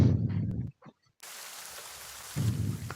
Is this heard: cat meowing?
no